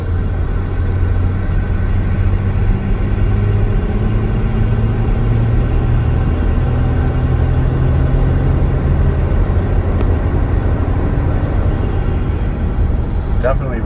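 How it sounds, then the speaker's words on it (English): A 2008 Mercedes-Benz ML320 engine, suffering from hesitation and surging, pulls hard under heavy acceleration with a loud, steady low rumble that continues without letup from start to finish. "So I'm going to try accelerating heavily now and see how it runs."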